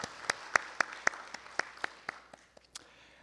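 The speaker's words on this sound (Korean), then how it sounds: "우리 하나님께 영광의 박수 올려드리겠습니다." Quiet, sparse clapping at a Korean church Sunday service: a dozen or so distinct claps in a loose rhythm, fairly faint, slowing as they trail off.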